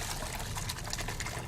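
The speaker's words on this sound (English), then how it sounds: "Just kind of pour the rest in?" Liquid poured steadily into cauliflower soup in a cooking pot, a continuous close splashing gush with no pause.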